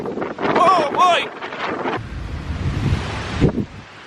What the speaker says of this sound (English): It's storming. Wind's blowing probably